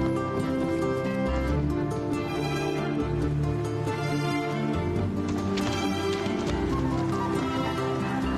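Horse hooves clip-clop along a mountain trail during a riding expedition in the South American Andes, a steady close rhythm of hoofbeats under a dense layer of outdoor background sound.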